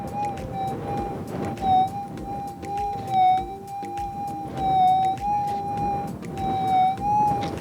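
A Minelab GPZ 7000 metal detector on its ultra deep setting, sensitivity at 300, produces a steady, close threshold tone over a buried target. The tone wavers slightly in pitch with faint swells, and no voice is heard.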